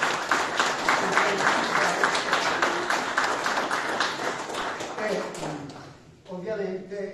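Applause at an Italian local-development meeting, a steady patter of clapping that fades out near the end before a voice begins speaking.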